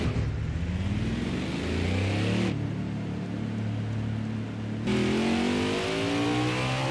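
A race car engine in NASCAR Heat 5 revs and drones steadily, its pitch climbing through gear changes for about seven seconds with no talking over it.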